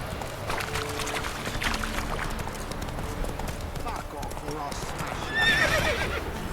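Roach the horse trots with steady clip-clop hoofbeats in The Witcher 3, then lets out a sharp whinny near the end, with a voice speaking over the game sounds.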